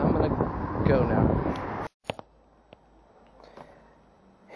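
Gusty wind buffets a microphone outdoors on a street near a train line, a loud rumbling roar for about two seconds before cutting off, followed by a few faint knocks and quiet background.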